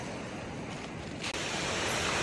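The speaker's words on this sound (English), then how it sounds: "Look at them waves. Look at them coming in." Pacific Ocean waves rolling in on the coast of Olympic National Park, a steady broadband surf roar with wind rushing across the microphone, close and loud throughout with a brief dip midway.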